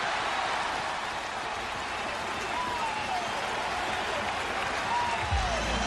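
Large stadium crowd of Yankee fans at Shea Stadium applauding during the 2000 World Series, a dense, steady wash of clapping and crowd noise filling the whole stretch with no letup.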